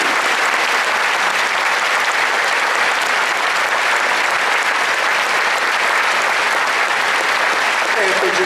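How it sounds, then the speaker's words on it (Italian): An audience at a religious gathering applauds in steady, dense clapping that holds unbroken for several seconds, loud and close with no voices standing out. "lo applaudiamo, lo applaudiamo."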